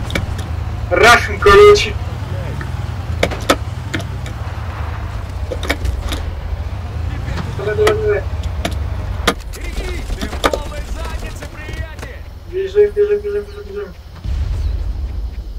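A car driven in the video game Far Cry 1 gives a steady low engine rumble through the whole stretch, with voices talking over it and a few brief clicks and clatters.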